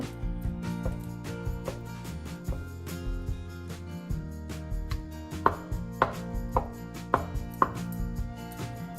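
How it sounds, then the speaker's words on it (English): A block of cream cheese being broken up in a pan for mac and cheese, with a steady run of soft scraping and tapping strokes from a utensil against the pan, some sharper knocks near the end, no talk. "So just break it up."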